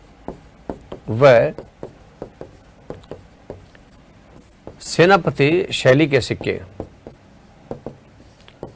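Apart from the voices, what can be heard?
writing on a board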